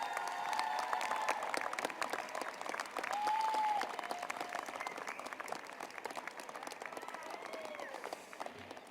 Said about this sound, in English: give a big hand of applause to the people who were sitting behind you